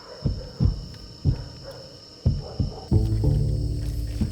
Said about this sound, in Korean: 황소개구리입니다.